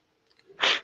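A single sneeze, close and fairly loud, preceded by a short, quiet intake of breath, with nothing else around it.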